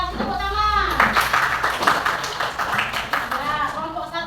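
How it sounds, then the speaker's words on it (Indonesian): Students clapping in a fifth-grade primary school classroom after a group presentation, a short burst of close, uneven hand claps mixed with children's voices and chatter. "Kita kasih tepuk tangan."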